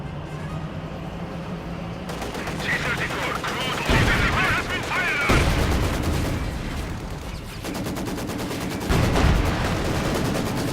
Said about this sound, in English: Once more coming under fire from the field gun.